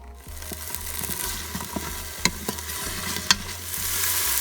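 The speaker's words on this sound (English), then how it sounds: "I'm going to saute this down." Neck bones with ham flavoring, bay leaf and garlic sizzle and crackle in a hot pan while a utensil scrapes and stirs, with occasional sharp clicks, close and steady.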